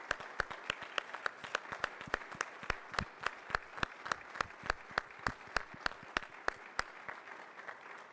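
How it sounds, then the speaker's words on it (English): Sparse, distinct claps from an audience at a Rotary Club luncheon honoring a student team, a steady rhythm of individual sharp hand claps, fairly faint and without talk. "let's give them a round of applause."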